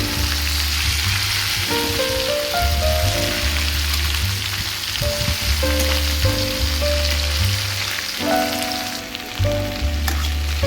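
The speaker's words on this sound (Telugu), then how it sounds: "బెండకాయలు వేసుకొని అటు ఇటు వేస్తూ ఉండాలి." Okra frying in an oiled pan for a curry with dried prawns, giving a steady, close, rain-like sizzle that runs unbroken throughout, with a steady low musical backing underneath and no talk.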